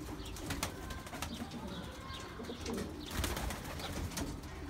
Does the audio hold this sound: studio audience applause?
no